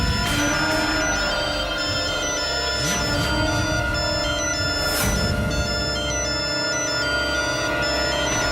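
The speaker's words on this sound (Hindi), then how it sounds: "लेकिन ये फोन बज कहाँ रहा है?" A mobile phone ringtone rings loud and steady in an indoor domestic scene, a repeating electronic melody that carries on throughout without pause.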